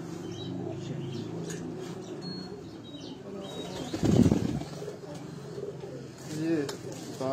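Female Parwazi pigeons coo softly in a loft, with a sudden burst of flapping wings midway and light chirps, while people talk nearby.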